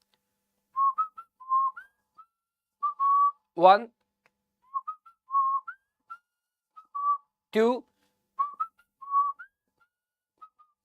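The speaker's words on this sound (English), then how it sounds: "whistled thrice means I whistled 3 times." A person whistles three times, each a sharp rising-and-falling sweep spaced a few seconds apart, clear and close, with soft speech counting between the whistles.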